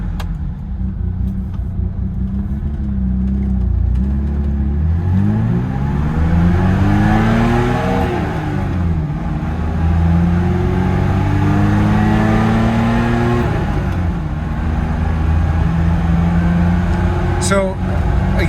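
A 1974 BMW E9 engine idles, then revs up and falls back twice in long smooth swells, loud and close, with a steady rumble between revs.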